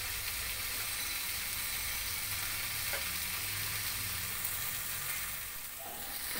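Onion and spice masala fries in oil in a pan for a Bengali prawn curry, giving a steady, quiet sizzle and hiss throughout, with a faint stir near the end.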